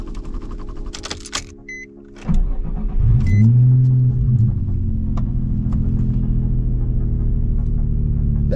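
A Nissan 350Z's engine idles while warming up: a steady low rumble that settles into a continuous hum after a brief dip near the start, with a couple of faint clicks above it and no talking.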